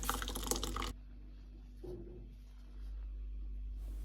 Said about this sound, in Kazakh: Енді осы ірімшікті мәрліге сүзіп аламыз. Сары суы бөлек, ірімшігі бөлек болып мәрліге сүзіп алынады.